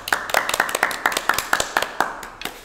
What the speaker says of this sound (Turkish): Alpay Erdem alkışlarınızla gelirken